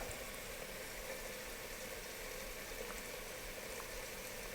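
Steady, quiet bubbling and hiss of water boiling in a pot, continuous with no pauses and no voices.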